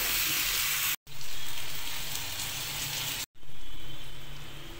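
Chicken fries with onion paste in a pan for a Karnataka-style chicken donne biryani, giving a steady loud sizzle that twice cuts out for a moment, with no voices.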